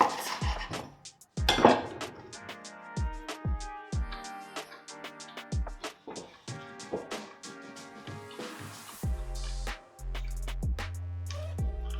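A knife slices protein garlic bread on a kitchen board, giving sharp scrapes and clacks. Scattered knocks and the clinks of utensils and dishes follow at irregular intervals, close and fairly quiet.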